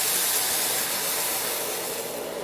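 Hot water pours over rice spread in a pan, making a steady, close rushing hiss that holds at an even level throughout with no talking.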